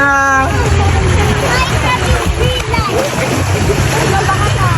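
Water splashes and churns as people plunge into the sea at a beach in San Juan, Batangas, with a lively babble of voices and shouts all around.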